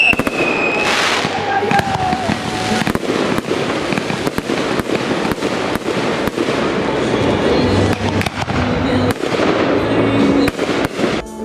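Fireworks crackle and bang in rapid bursts, many sharp pops overlapping continuously with a few whistling rises, loud and fairly close.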